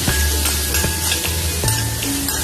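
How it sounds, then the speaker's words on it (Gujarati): Carrot and capsicum sauté in a spoonful of oil in a kadai, giving a loud, constant sizzle broken by a few sharp clacks of a spoon stirring against the pan. "હવે આપણે આ વેજીટેબલ છે એને સોતે કરી લઈએ છીએ"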